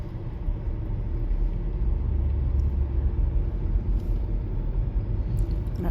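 Heavy winter road traffic on snowy Canadian roads rumbles as a steady, dense low drone of engines and tires, with no distinct passing vehicles standing out and no talk.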